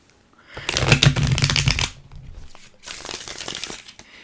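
Tarot cards are riffle-shuffled nearby, one long crackling burst followed by a second softer shuffle, with no talk over them.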